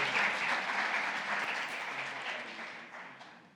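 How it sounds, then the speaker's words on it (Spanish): Applause from a conference audience starts loud, then thins and fades steadily over a few seconds, with no talk over it. "Un aplauso, por favor."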